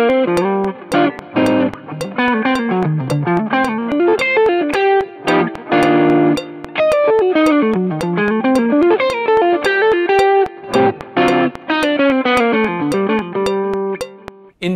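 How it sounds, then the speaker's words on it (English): A distorted electric guitar plays a fast, continuous solo line at 220 BPM, with a metronome clicking on beats 1 and 3 beneath the notes, loud and close throughout. "So if we were to play with the metronome on 1 and 3, at 220 BPM, it might sound a bit like this."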